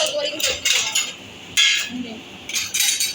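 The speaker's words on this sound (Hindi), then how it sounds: "अभी अभी मैंने कुकर खोला है जस्ट" Pots and steel utensils clink and clatter in a home kitchen as a pressure cooker of dal and rice is opened, in sharp bursts with brief pauses and little talk.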